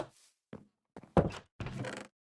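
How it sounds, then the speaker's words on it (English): Chest slammed shut in a video game, heard as a short series of soft, dull thumps and knocks spaced apart, close and fairly quiet. "slam it into a chest for a later video"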